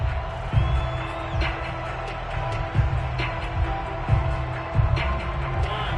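A stadium crowd roars steadily during an American football video game featuring the Raiders, a dense, distant wash of cheering with recurring swells and thumps.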